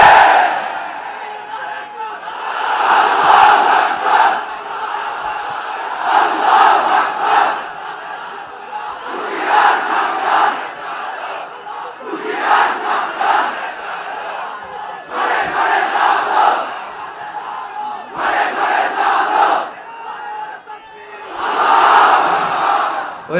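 A large crowd roars slogans back in unison in answer to a speaker, in waves of loud shouting. About seven bursts come at roughly regular intervals, with short quieter gaps between them.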